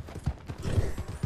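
A spurred horse galloping in Red Dead Redemption 2, quick close hoofbeats in a short, fairly loud burst.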